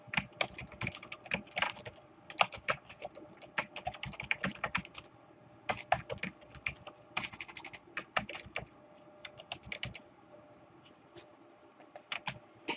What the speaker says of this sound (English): then you can type in the description of what this is